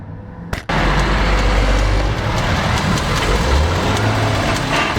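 A 2017 Ford Powerstroke diesel truck engine runs loud and steady after a sharp start, with a dense mechanical clatter and faint rapid ticking like a typewriter running through the idle.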